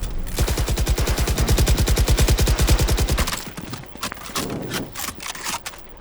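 Rapid automatic gunfire from the Valorant shooter game, a loud sustained burst of evenly spaced shots lasting about three seconds, then scattered fainter shots and game noises trailing off.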